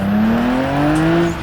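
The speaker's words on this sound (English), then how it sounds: "The old S60 does come with a selection of Polestar variants though, with their awesome exhaust sound." A Volvo S60 Polestar in BeamNG revs up close, its exhaust note rising steadily as a smooth, loud engine tone throughout the short burst, with no voices over it.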